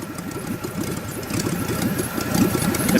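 An LS turbo engine in a Miata-based kart idles very low, around 400 RPM and in second gear, giving a lumpy, uneven chugging pulse that grows slightly louder toward the end, with no talk.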